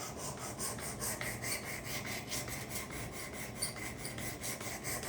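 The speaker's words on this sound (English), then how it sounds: "we're going to go to the 320 next" Karambit knife blade rubbed back and forth on 320 grit abrasive, a rhythmic rasping scrape repeating in quick even strokes, close and fairly quiet with no voices.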